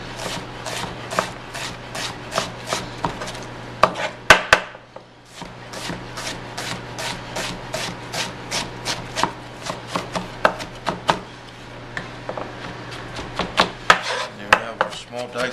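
Rapid, steady knife chops slicing an onion on a cutting board, a long run of crisp close strikes with a brief pause partway through.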